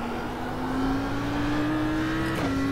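A race car accelerates hard out of a corner on the Nordschleife, its engine note climbing steadily before a quick gear change and a brief dip, then pulling on, loud and close.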